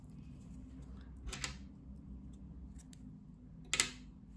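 Scissors snip through crochet yarn, two short crisp cuts spaced a couple of seconds apart over a quiet room hum, close and fairly soft.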